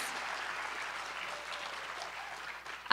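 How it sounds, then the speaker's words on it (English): Audience applause at a school Veterans Day assembly honoring the student hosts, a steady wash of clapping from a large crowd that holds for nearly three seconds before ending in a sudden loud burst. "let's please give a big round of applause for our hostesses, our hosts and hostess, Orion and Phoenix"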